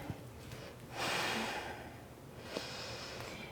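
Deep, slow breathing during a flexibility yoga practice: one long, airy inhale swells and fades, then a softer breath follows, close and quiet with steady background hiss.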